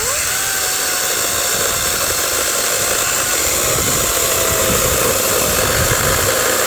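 A battery-powered saw, a 201 PLC model, cuts through very hard local wood with a loud, constant high-pitched whine that stays steady and near throughout, with no voices.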